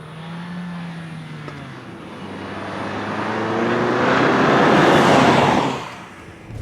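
A 2014 Fiat 500L small engine accelerating hard during a 0-60 run at high altitude, the engine note rising steadily in pitch and loudness from inside the car, then dropping off as it lets up.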